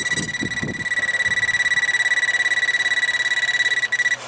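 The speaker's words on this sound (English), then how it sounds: "the old power tester" An old electrical power tester emitting a rapid, steady pulsing electronic beep, loud and close, repeating evenly without pause after a few brief knocks at the start.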